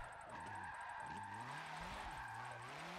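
Drifting car in Forza 7 racing game, engine revving with rising and falling pitch as tires squeal through a long slide, steady and loud throughout with no talking.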